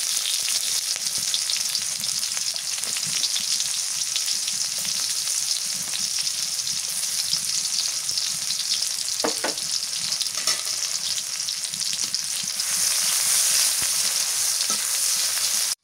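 Cumin seeds and onion frying in hot oil, a dense, continuous hiss and crackle that holds steady throughout at close range, with a few faint clinks and no speech.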